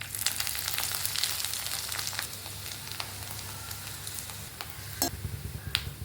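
Mustard seeds, urad dal and crushed garlic fry in hot oil for tempering, a continuous close crackle and sizzle with scattered sharp pops and a few stirring scrapes.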